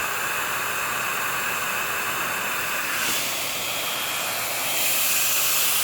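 An 1800 watt professional salon negative ionic hair blow dryer runs with a steady loud airy hiss and whine, close up, the rush swelling slightly as the setting changes near the end.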